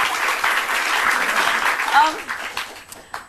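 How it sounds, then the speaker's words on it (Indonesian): A studio audience at an Indonesian talk show breaks into loud, dense applause that keeps going steadily and then starts to fade, while a voice talks underneath it. "kasih tepuk tangan dong"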